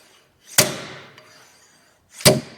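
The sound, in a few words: slide hammer pulling old axle bearing out of Ford F150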